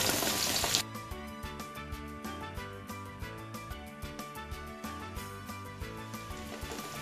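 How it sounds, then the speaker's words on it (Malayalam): Sliced onions sizzling in hot oil in a pan for a chicken curry, a steady crackling hiss broken by a regular rhythm of soft scraping stirs, close and fairly quiet. "സവാള ഇട്ട് കൊടുത്ത് നന്നായി ഇളക്കുക"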